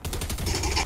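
Rapid bursts of gunfire in the video game Fortnite during an arena match, a fast rattling volley of shots close and loud, running continuously through the short moment.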